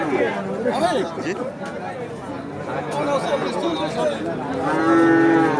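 A Holstein Friesian heifer calf and other cattle moo at a large village cattle market, drawn-out lowing calls rising over a constant crowd babble and nearby talking.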